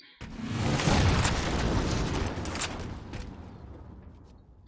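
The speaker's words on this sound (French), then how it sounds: "C'est le canon incendiaire." In Halo 4 gameplay, an incendiary cannon fires and explodes with a sudden loud boom that swells into a roaring, crackling burst before fading, ending with a sharp click.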